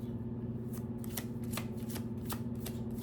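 Tarot cards being shuffled, a steady run of quick papery riffles and soft flicks close by over a constant low hum, with no talking.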